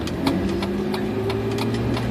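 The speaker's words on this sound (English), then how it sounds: "The door is still open, so you can hear the vehicles outside." Vehicles idling and passing outside an apartment, heard through an open door as a steady low engine rumble with faint ticking, distant and continuous, with no talking.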